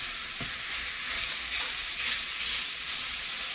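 Ground turkey frying in a pan, a dense, even hiss of sizzling fat heard up close, with a faint scrape of stirring early on and no voices.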